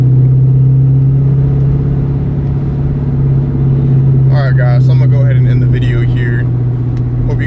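A 1999–2004 New Edge Ford Mustang GT being driven, its V8 engine and exhaust giving a loud, steady, deep throaty drone from inside the car, with someone talking over it partway through.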